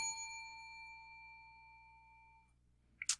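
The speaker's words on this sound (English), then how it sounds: "I will employ what I have called the inappropriate bell" A single bell rings out clearly on a quiz show, its bright tone decaying slowly over a couple of seconds, followed by a short, sharp double clatter near the end.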